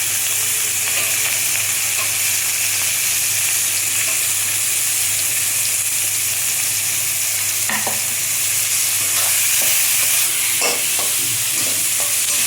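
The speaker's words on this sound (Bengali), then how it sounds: "পেঁয়াজটা ভাজা হোক" Onions sizzle steadily in hot oil with black cumin seeds in a pan for a Bengali fish curry, a loud continuous frying hiss with occasional stirring scrapes and clinks.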